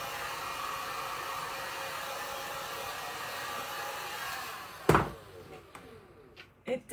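A hair dryer blows steadily over a freshly painted decorative tray for several seconds, then cuts off abruptly with a clunk and a few faint knocks as it is set down.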